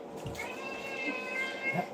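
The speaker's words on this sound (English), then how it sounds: "Y'all hear my cat?" A pet cat gives a single drawn-out, wavering meow, moderately close and clear over quiet room noise.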